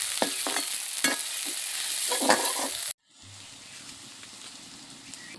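Garlic, onion and green chili frying in hot mustard oil, a steady close sizzle with stirring scrapes that drops abruptly to a quieter, softer sizzle partway through.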